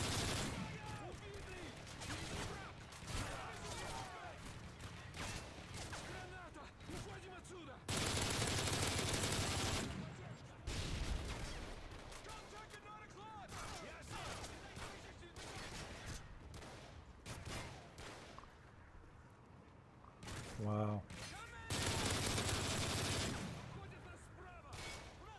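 Gunfire in Modern Warfare 3 Survival mode, bursts of rapid automatic shots and volleys coming in waves, loud and close at times and quieter in between.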